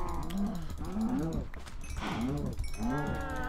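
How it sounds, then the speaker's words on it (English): Minecraft cows in a crowded farm pen moo over and over, giving several overlapping nasal lowing calls in close succession against a steady game background hum. "Look at all these, randy cows."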